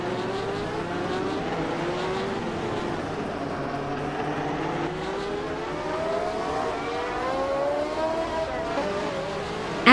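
A 1971 Tyrrell 002 race car in a racing video game, its engine whining steadily with rising and falling revs through gear changes, amid other cars in the race, loud and continuous without speech.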